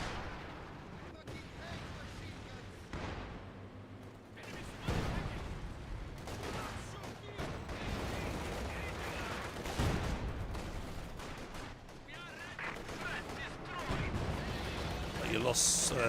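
Machine gun and other gunfire in the real-time strategy game Company of Heroes 2, repeated bursts and booming impacts across the battle, mixed with a tank fight and heard under ongoing commentary.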